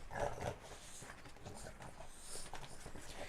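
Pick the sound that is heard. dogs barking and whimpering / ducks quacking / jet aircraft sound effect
dogs barking and whimpering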